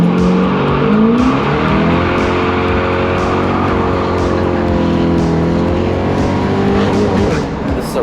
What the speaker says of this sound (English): So you could do some nice burnouts with this thing.